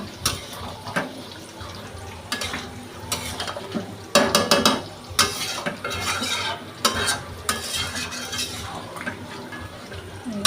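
Chicken curry with potatoes frying in a pot, bursts of loud sizzling and spatula stirring scrapes separated by quieter gaps, close up with no talk.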